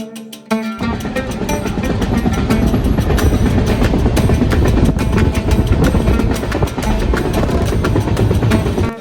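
A train running on rails toward a temple site, heard as a loud, close, continuous rumble and rattle of wagons with clattering clicks throughout and no talk.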